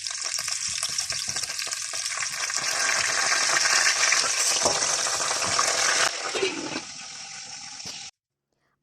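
Potatoes and chicken legs fry in oil in a kazan, giving a loud, dense, continuous sizzle that eases off near the end and then cuts to silence.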